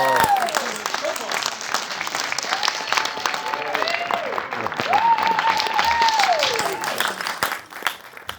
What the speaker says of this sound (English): Let me give you a applause.